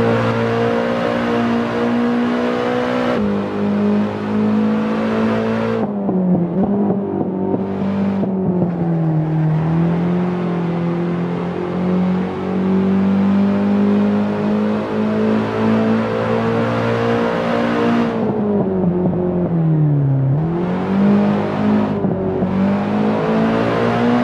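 Race car engine in the Assetto Corsa sim lapping the Highlands drift track, a steady loud drone that rises and falls with revs, dipping and surging through corners with no talk.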